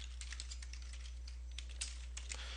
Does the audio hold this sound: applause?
no